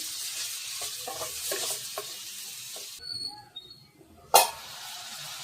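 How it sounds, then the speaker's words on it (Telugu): Broad beans frying in oil for a broad bean and tomato curry: a steady hissing sizzle with light stirring scrapes for about three seconds, then a quieter pan and one sharp clack near the end. "ఇలా చిక్కుడుగాయని కూడా ఆయిల్లో అయితే మంచిగా వేగనివ్వాలి"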